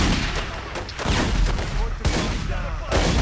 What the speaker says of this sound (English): Let me just stand back and shoot.